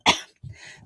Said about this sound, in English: I started having coughing attack.